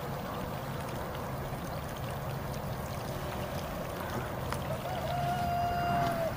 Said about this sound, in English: Got water flowing in right here.